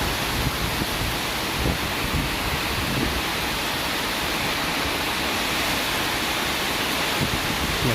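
Torrential rain driven by fierce wind in Pranburi makes a thick, continuous hiss and roar, steady and close, with faint low rumbles and no speech.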